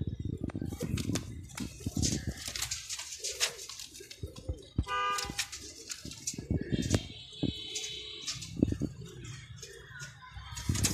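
Guldar breed pigeon coos among mixed bird calls and wing flutters, with someone talking intermittently over the low, busy loft sounds.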